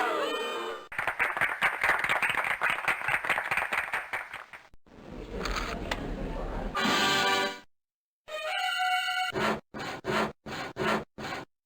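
Crowd applause in the Freddi Fish 3 video game, a dense continuous clapping that runs for several seconds, followed by a few short separate bursts of clapping. Other game sounds break in between.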